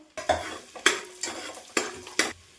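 Butter, oil, cumin, garlic and ginger fry for pav bhaji while a utensil scrapes the pan in about five rhythmic stirring strokes over a soft sizzle, close and clear, with no voices.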